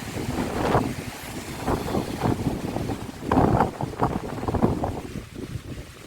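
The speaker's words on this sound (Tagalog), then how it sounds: "sa lakas ng hangin" Strong wind buffets the microphone in loud, irregular gusts, roaring and rumbling continuously.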